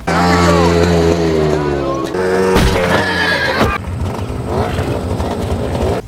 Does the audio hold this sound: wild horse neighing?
yes